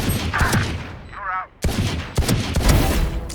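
Rapid bursts of gunfire in the tactical shooter game Valorant, loud and close, with several clustered volleys separated by a brief lull and a sharp electronic tone.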